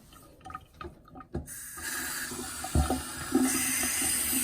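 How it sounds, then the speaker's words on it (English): After a few brief handling clatters, lukewarm tap water starts running and pours steadily into a sink, fairly quiet and close, while a bundle of mohair is readied for washing. "Lukewarm water."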